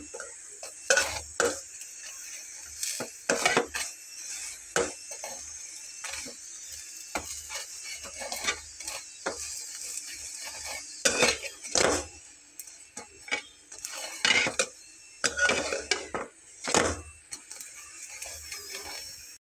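A cauliflower paratha fries in a pan, with irregular clinks, taps and scraping of a utensil against the cookware over a low background hiss. There is no talk.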